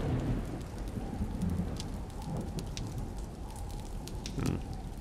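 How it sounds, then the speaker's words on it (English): A radio-drama storm effect: constant rain with low, rolling thunder, moderately loud and steady throughout, with no speech. "to the clamor of the storm outside"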